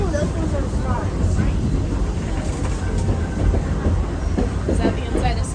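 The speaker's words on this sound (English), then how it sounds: "Please keep our legs and arms all the way inside the train, please." Passengers ride the Walt Disney World Railroad train, its rolling wheels and carriage rumble a steady, loud clatter throughout while people talk over the noise.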